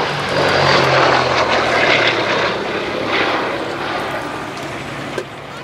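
A Gloster SS-37, the Gladiator prototype biplane fighter, drones overhead at an Old Warden air display, its radial engine and propeller giving a loud, steady roar that eases slightly as it passes, with no voices.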